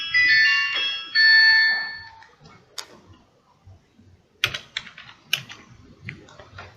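A password is typed on a computer keyboard while logging into a MySQL database connection, heard as a scattering of sharp, irregular key clicks. Before the keystrokes, a couple of steady tonal beeps sound in a quiet room.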